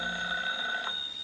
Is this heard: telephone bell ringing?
yes